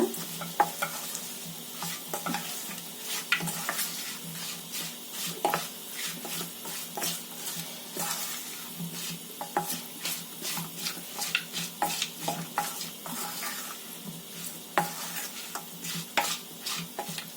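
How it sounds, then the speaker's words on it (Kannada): Steady crackling sizzle of mustard seeds spluttering in hot oil, tempering for raw mango pickle, with frequent sharp pops and occasional scraping of a spoon in the pan. "ಸಾಸಿನೆ ಒಂದಿಷ್ಟು ಹಾಕಿದ್ರೆ ಮುಗಿತು ಸ್ವಲ್ಪ ಒಗ್ಗರಣೆ ಹಾಕೊಳ್ಳೋ ಮುಂದೆ ಎಣ್ಣೆ ಸ್ವಲ್ಪ ಜಾಸ್ತಿನ ಹಾಕೊಳ್ಳಿ"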